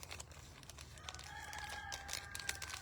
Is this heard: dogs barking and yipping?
no